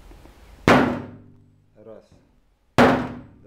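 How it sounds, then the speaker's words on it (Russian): A small hammer strikes a car body panel to push in a small dent: two sharp, loud taps about two seconds apart, with a brief spoken word between them. "Вот молоточек. Берем, делаем вмятину."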